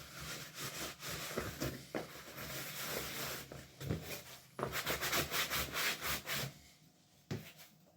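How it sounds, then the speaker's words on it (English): A towel rubs sawdust off a wooden marble-run baseplate in repeated quick scrubbing strokes, close and fairly quiet, with short pauses between bursts. "Get a towel. We'll wipe it off."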